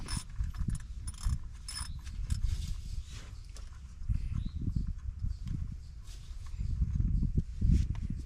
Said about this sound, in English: Now I'm going to take the bolts that hold the wheel cylinder on loose